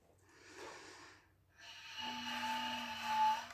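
Airy, breathy hiss of a clarinet leaking air past fingers that do not fully seal the tone holes, a rushing noise in two bursts with a faint thin pitched whistle in the second, close and moderately quiet.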